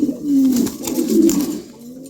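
Pigeons cooing close by, a few low throaty coos in a row against a quiet background, no talk.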